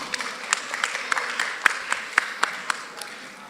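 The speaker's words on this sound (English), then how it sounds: "let's give a round of applause to Pastor Johnson John." Guests at a wedding reception applaud, a crowd of scattered claps with a few sharp louder claps standing out, steady and moderately distant before tapering off.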